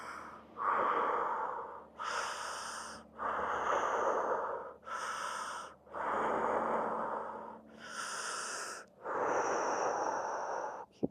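Slow, audible breaths during a fascial movement exercise, about six long airy inhales and exhales in a steady rhythm, close and clear with no talk.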